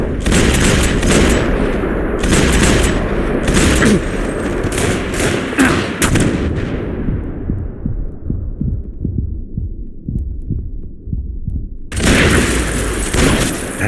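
Rapid bursts of gunfire in the shooter game Max Payne 3, loud volleys in the opening seconds, then a fading tail with low throbbing music before another loud burst returns near the end.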